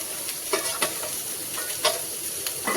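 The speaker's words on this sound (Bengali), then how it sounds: "একটু ঢাকনাটা তুলে নেড়ে চেড়ে আবার ঢেকে দেবো" A bottle gourd and prawn curry sizzles in a pot while a spoon stirs it, sending several sharp scraping strokes through the steady frying hiss at close range.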